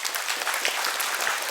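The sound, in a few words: applause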